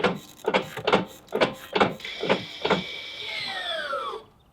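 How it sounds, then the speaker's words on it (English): The electric parking brake on a 2020 C8 Corvette engages with a series of about seven rhythmic mechanical clicks and whirs, then a steady motor whine that rises and cuts off, close by. "The parking brake just set itself."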